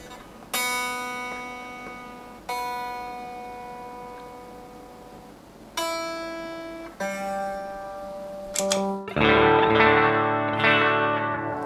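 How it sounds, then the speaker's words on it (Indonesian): Electric guitar tuned to drop D played through a pedalboard with reverb and analog delay switched on, several single notes and chords ringing out with long echoing tails, ending in a louder sustained strum. "Oh, reverb nyala."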